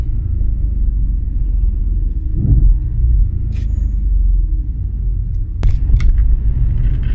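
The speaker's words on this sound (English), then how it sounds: "There's something about a naturally aspirated V8." Naturally aspirated V8 of a 331 kW Audi RS4 wagon, a loud, deep, steady engine rumble from inside the car, with a brief swell midway and a few faint clicks near the end.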